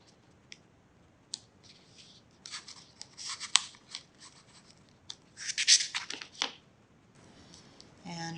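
Scissors snipping away excess chipboard while building a junk journal folio, giving sparse close crisp cuts and clicks that build into a denser flurry of snips, alone without talk.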